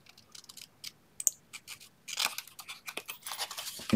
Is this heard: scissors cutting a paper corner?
yes